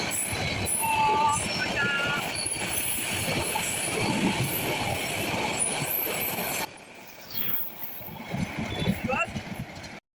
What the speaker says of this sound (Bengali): এখন যে ট্রেনটি দেখতে পাচ্ছেন সেটি মূলত চট্টগ্রাম থেকে ছেড়ে আসা ঢাকা অভিমুখী সোনার বাংলা এক্সপ্রেস ট্রেন।